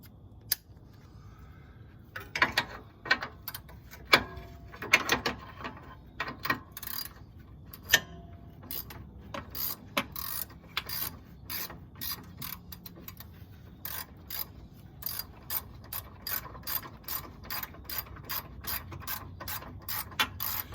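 A ratchet socket wrench working on the control arm bolts of a 2003 Honda Civic, clicking in close, repeated bursts that speed into a steady rapid ratcheting rhythm toward the end, with no talking.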